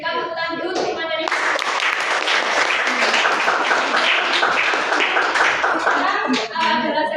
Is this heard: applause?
yes